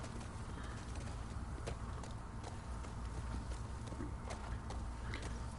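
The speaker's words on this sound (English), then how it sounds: "Oh, horse is stuck." Horse hooves clopping in The Last of Us Part II video game, a steady, fairly quiet run of hoof falls over a constant background rumble, with no one talking.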